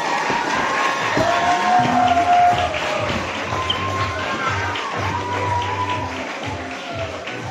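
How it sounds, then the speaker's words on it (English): A lively audience at a story-sharing tour event breaks into applause mixed with cheers, whoops and raised voices, loud and crowded throughout. "So can you please give a massive round of applause to Mohammed and Sarah?"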